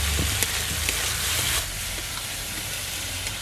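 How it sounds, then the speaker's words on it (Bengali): Potatoes fry and get stirred into a spice masala for ghugni, giving a steady, close sizzle with faint scraping stir sounds and no voices. "এবার আমি ভেজে রাখা আলুগুলো দিয়ে দেব। আলুগুলো দিয়ে একটু নাড়াচাড়া করব"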